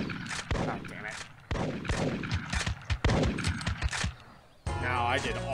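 Gunshots in the hunting video game Big Buck Hunter Pro, several sharp loud shots in quick bursts over a few seconds, mixed with game effects and a closing music sting.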